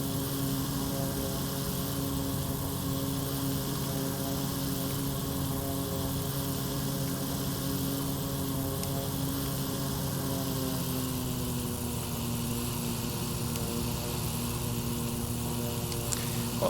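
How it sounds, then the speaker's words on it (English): Turbocharged propeller airplane engine at takeoff in X-Plane 11, a continuous droning hum with steady harmonic tones that shift slightly in pitch near the end, constant and moderately loud with no voices. "I think I've been putting in too much throttle on the takeoff"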